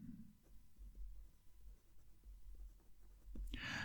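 A Wing Sung 630 fountain pen with a fine nib writing on paper, soft faint scratchy strokes in an uneven rhythm close up, ending with a brief louder rustle.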